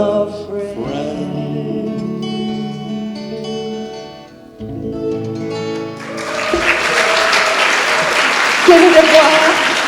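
Audience applause breaks out as a song with a lyric about friends comes to an end, following a few seconds of sustained tones; the clapping is loud, dense and steady and continues to the end.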